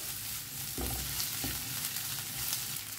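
Ginger-garlic paste frying in a pan, a dense continuous sizzle with a couple of brief scraping stir strokes, close and steady throughout.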